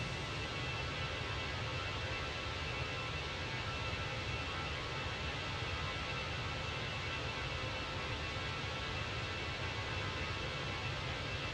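Flight-simulator sounds of a Fenix A319 airliner from a video game form a quiet, constant cockpit hum and airflow hiss, steady and low in level, with no talking.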